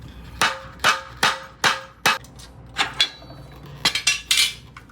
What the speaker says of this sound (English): I'm probably just gonna hammer it in and then, well, not hammer, mallet